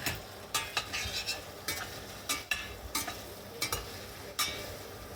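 A spoon scrapes and knocks against a pan while onions and curry ingredients sauté for a chicken biryani meal, irregular stirring clacks over a faint, steady sizzle, close up with no talk.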